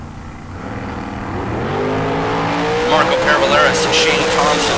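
Drag racing cars at a bracket race event launching down the lanes, a loud sustained engine roar rising in pitch as they accelerate, with some tire noise and crowd or announcer sound mixed in.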